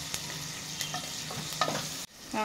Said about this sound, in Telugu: ఇది జర కొంచెం బ్రౌన్ కలర్ రావాలి కొంచెం మగ్గాలి ఉల్లిగడ్డ